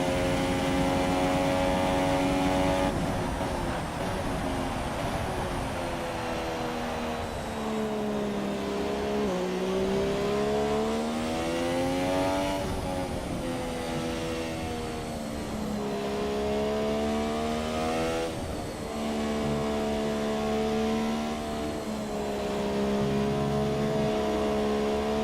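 Formula 1 car engine from the F1 2017 racing game during qualifying at Japan on a wet, slippery track, a loud continuous high-revving whine rising and falling through gear changes for the whole stretch, with no talk.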